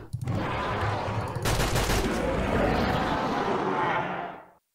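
Rapid automatic gunfire from a player's weapon in modded hardcore Minecraft, a loud sustained burst of shots lasting several seconds before cutting off.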